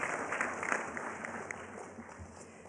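Applause for graduates fills a spring 2019 humanities graduate convocation at a university, a faint, distant, steady wash of clapping from a seated audience that lasts throughout.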